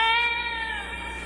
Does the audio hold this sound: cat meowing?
yes